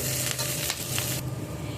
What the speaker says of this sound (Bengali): দিয়ে দুটোকে একসাথে ভালো করে ভেজে নেব